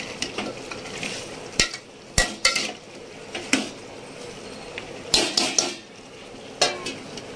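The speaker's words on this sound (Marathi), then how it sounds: "परत एकदा परतून घेऊ आपण व्यवस्थित" A spatula scrapes and knocks against a pan as chicken is stir-fried, giving irregular sharp clinks and scrapes over a faint background hiss, close and fairly loud.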